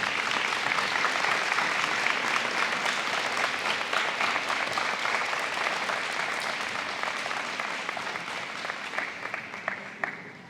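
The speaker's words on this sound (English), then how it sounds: "Students, if you could stand up and give a round of applause to all of those that are here tonight to support you" Students at a high school scholarship night give a standing round of applause for supporters and families, a broad, steady roar of clapping that gradually thins toward the end, leaving a few louder individual claps.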